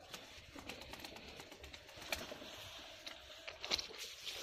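Pigeons in a home pigeon loft coo softly amid low rustling and scratchy shuffling, with faint crunching and a few sharper peeps rising over the steady background.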